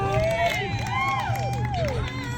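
Relatives cheer and call out for a runner finishing a 5K or marathon race in Shiprock, with lively crowd voices and some clapping at close range throughout.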